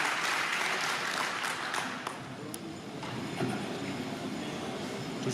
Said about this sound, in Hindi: जिनका स्वागत आप जोरदार तालियों से कीजिए